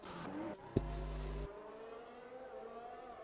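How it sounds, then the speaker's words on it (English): A racing-game car engine caught in a sound glitch drones at a steady, unnaturally held pitch, with an abrupt flat buzzing burst cutting in for under a second before the stuck tone carries on. "I've that horrible sound glitch"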